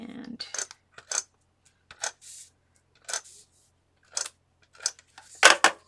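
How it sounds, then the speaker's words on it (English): A large tape runner rolls adhesive onto paper for a calendar scrapbook page, giving short scratchy bursts spaced irregularly, each lasting a fraction of a second, close and alone against near silence. "Grab my tape runner. Using the big one today."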